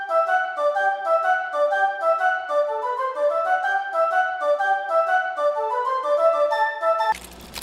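Flute and piccolo lines processed with EQ, delay and OTT compression play a bright, airy medieval-style melody of quick repeating notes, ending abruptly in a short burst of noise.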